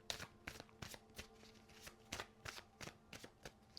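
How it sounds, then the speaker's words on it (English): Cards from a shamanic healing oracle deck shuffled by hand, a quick, close series of crisp riffling and slapping bursts, quiet and alone without talk. "I'm going to pull a card from my shamanic healing oracle"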